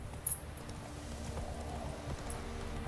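Horse hooves in The Witcher 3 video game clip-clop in a steady, faint walking rhythm over a low background drone.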